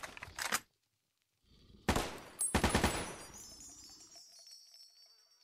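AK-74 rifle firing in the Fallout: New Vegas video game, a short burst, then a pause, then two more bursts with a tinkling, ringing tail fading at the end, close and loud, no talk.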